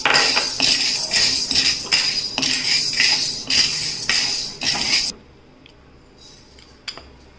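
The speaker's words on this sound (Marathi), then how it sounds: "आपण काळी मिरी भाजून घेणार आहे" Whole black peppercorns for a homemade Bhandari garam masala dry-roasting in a pan, giving a run of sharp rattling clinks and scrapes for about five seconds before falling nearly silent with a few faint ticks.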